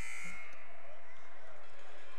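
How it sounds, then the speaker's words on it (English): An end-of-period buzzer sounds at a college wrestling match, a bright electronic tone cut off within the first third of a second. A murmuring arena and background voices continue afterward. "There should be the buzzer."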